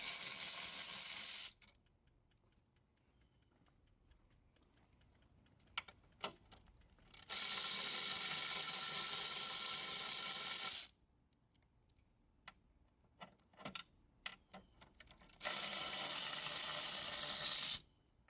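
An electric wrench with a 13mm socket and extension spins bolts loose while replacing the battery in a 2015-2019 Land Rover Discovery Sport, with three long, loud whirring bursts separated by quiet gaps holding small clicks and clinks.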